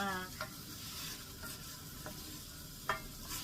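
Meat being stir-fried with cassia leaves in a pan: a soft, steady frying hiss broken by light stirring knocks from the spatula.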